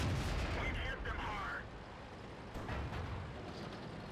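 A tank gun firing in World of Tanks: a heavy, rumbling blast at the start that decays into a low roar, with a second softer report later, faint and somewhat muffled under game noise.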